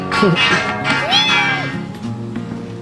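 A cat meows loudly a few times, including one long drawn-out meow, with people talking nearby.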